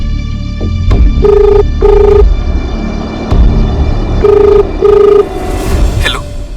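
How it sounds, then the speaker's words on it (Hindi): A telephone rings during a call in a crime drama, four even double-tone rings repeating over a low hum and background rumble. "एक बार मयूर को फोन कीजिए ना"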